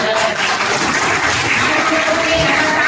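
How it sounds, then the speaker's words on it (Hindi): Steady, dense applause from a crowd at an official public event in honor of doctors and nursing staff, a continuous wash of clapping throughout. "चाहूंगी उनके लिए जोरदार ताली"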